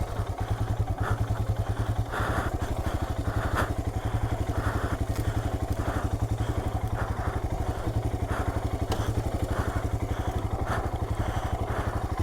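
Royal Enfield Himalayan motorcycle engine running at a steady rapid thumping idle throughout while the bike is pushed on rough ground, with occasional clanks and knocks over the top.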